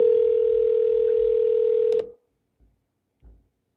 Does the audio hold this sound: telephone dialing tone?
yes